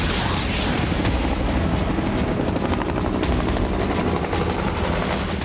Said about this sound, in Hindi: हेलीकॉप्टर में सवार जवान रूसी ड्रोन को इसी तरह हवा में भस्म कर रहे हैं